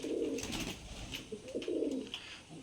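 Pigeons cooing softly nearby, two low rolling coos separated by a brief pause, faint and alone.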